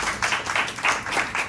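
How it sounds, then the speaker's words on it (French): A small audience at a live podcast recording claps briefly in a loud, close burst of several quick, uneven hand claps. "Et applaudissez vous-même."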